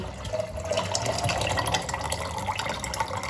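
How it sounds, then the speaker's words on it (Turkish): Drinking water poured into a jug holding almonds for homemade almond milk, a steady close splashing trickle with a continuous liquid texture throughout. "Bunları sürahimize koyduktan sonra suyumuzu da"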